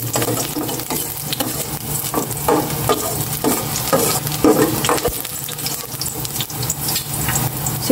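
Garlic fries and is stirred in a pan, a steady loud sizzle with scraping stir strokes running throughout, close by and with no voices.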